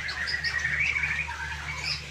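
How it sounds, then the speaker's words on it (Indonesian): A white-rumped shama (murai batu) gives its mating call, a continuous run of bright, varied chirps and whistles held close and fairly loud over a steady low hum, with no voices. "Dengar suara kawin."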